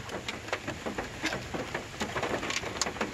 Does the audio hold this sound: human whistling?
no